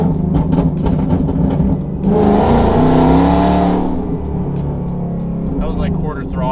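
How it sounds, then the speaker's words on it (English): A tuned car on a road test downshifts inside a tunnel, the engine revs swelling loud and echoing for a couple of seconds before settling back, with someone talking over the engine before and after. "We're also gonna do some downshifts through the tunnel to see,"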